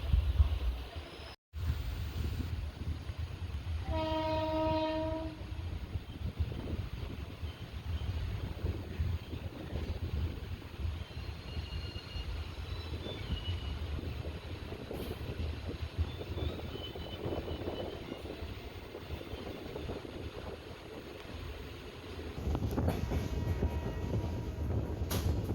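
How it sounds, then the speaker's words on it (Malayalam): A train pulls into platform 2 at Kundara railway station in Kerala with a continuous low rumble and wind noise. A short horn-like tone sounds early, and the noise swells again toward the end. "പ്ലാറ്റ്ഫോം നമ്പർ 2ലേക്കാണ് ട്രെയിൻ വരുന്നത്."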